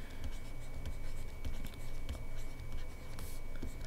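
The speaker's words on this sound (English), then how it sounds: "So I'm gonna write oranges" Pencil writing a word on a math worksheet, a steady scratchy stroking against paper in short rhythmic bursts, close and clear with no voices.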